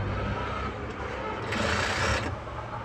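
A sewing machine stitches along the edge of a blouse strip, running steadily and close for the whole few seconds.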